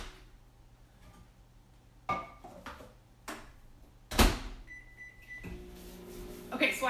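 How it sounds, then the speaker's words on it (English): Clunks and clicks of a microwave door and buttons, a short beep, then the oven's low steady hum starts running as it heats covered butter. "whenever we do butter in the microwave, we always need to make sure it's covered"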